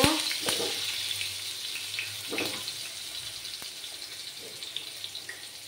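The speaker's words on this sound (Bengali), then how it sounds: "এবার আমি আলুটাকে লাল লাল করে ফ্রাই করে নেব" Potatoes frying in hot oil with turmeric, a continuous crackling sizzle that starts loudest and slowly settles, with a few scattered pops and utensil knocks nearby.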